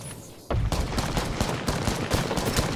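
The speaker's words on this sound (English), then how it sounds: "Jordan, shoot now." Rapid gunfire from the Apex Legends battle royale shooter breaks out in a dense, continuous burst of closely spaced shots after a brief quieter moment, loud and sustained throughout.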